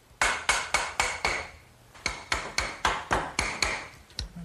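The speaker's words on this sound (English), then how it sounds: "give it a little tap to drive it home" A hammer taps steel conduit through an eye bolt on a garden swing frame, a run of sharp metallic strikes in two quick evenly spaced bursts with a short pause between, close and ringing.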